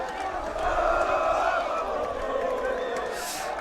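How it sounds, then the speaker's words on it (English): A home crowd at a St Andrew's College versus Framesby High schoolboy rugby match, Graeme Rugby Day, cheers a try with a steady, distant roar, and a commentator's voice runs over the noise. "Try being appreciated by the home crowd here in front of us."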